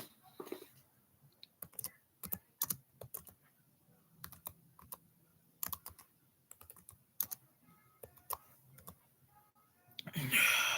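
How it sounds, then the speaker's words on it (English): Fast, uneven typing on a computer keyboard: close, crisp key clicks in irregular bursts with short pauses, fairly quiet overall, ending in a louder rustle. "That's why I hate fucking typing shit."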